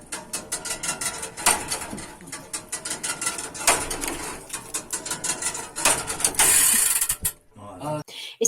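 Old clock mechanism with gears turning and a fan regulator, giving a close, busy run of rapid ratcheting clicks and mechanical whirring that continues steadily with no talk.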